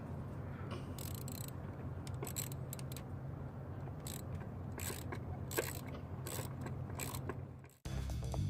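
Ratchet turning a spark plug socket on a 2.0L Jeep Patriot, with repeated clicking pawl strokes in irregular bursts over a low hum, ending with a brief thud, no talking.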